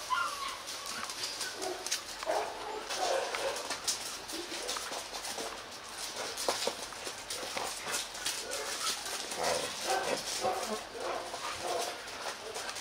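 Vietnamese bob-tailed village dogs moving around a rural yard, with scattered yips and whimpers alongside bird and dove calls, a busy outdoor mix of animal sounds that runs throughout.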